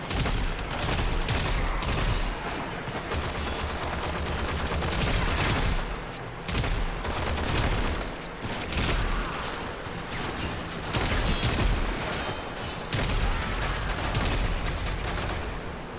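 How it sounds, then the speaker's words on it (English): Rapid, dense gunfire from the Akbolto pistol in the video game Warframe keeps up almost without pause, loud and close, with brief gaps between bursts and no talk. "What are you using that's shooting that sound? Akbolto."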